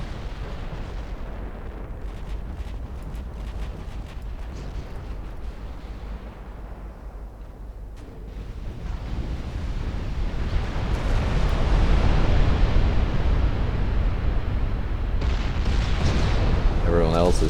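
Naval gunfire in a 1947 Norwegian Campaign naval war video game, a continuous heavy rumble of distant cannon blasts that swells louder and denser toward the end, under a voice talking.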